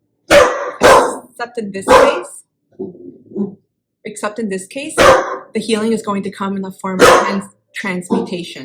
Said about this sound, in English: My apologies for my dog.